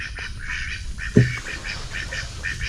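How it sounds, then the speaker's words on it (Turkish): Ducks quack repeatedly in a lively, overlapping chorus at a floating fruit market, with one louder honk in the middle, set against a constant outdoor rumble. "Ördekler var"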